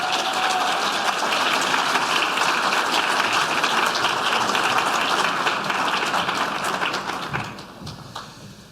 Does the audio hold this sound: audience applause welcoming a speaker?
yes